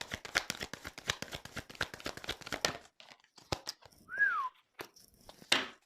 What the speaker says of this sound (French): Je siffle et tout, quoi.